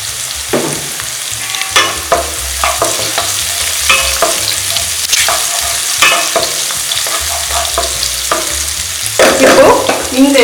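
Curry leaves fry in hot oil for a green chili chicken gravy, with a steady loud sizzle and the repeated scrape and clink of stirring in the pan, close and with no talk.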